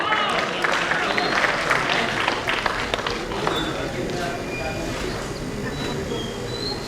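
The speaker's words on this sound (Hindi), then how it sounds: "जोरदार तालियां इनके लिए।" Applause from an audience at the 2021 Jhoom dance finale and awards show, greeting an international folk dance artist: a loud, dense wash of clapping that holds steady throughout.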